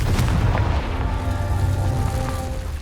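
Spell explosions in the Hogwarts Legacy video game, heavy booming blasts and bursts rumbling in quick succession with low thuds and crackling debris.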